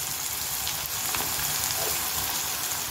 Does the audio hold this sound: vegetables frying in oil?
yes